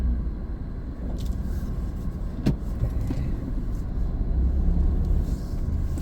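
Cars speeding along a city street in Chiang Rai in the evening, a steady close roar of passing traffic with a brief sharper knock midway, no voices.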